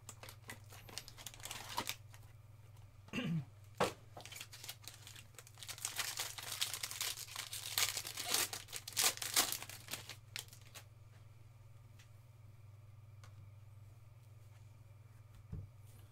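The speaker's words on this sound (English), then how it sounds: "Knife does not want to cut through these stickers." A knife scrapes and tears at stubborn stickers sealing a 2019-20 Upper Deck SP Game Used hockey card box, giving crinkly plastic rustling and sharp snaps over a steady low hum, busiest in the middle before quieting.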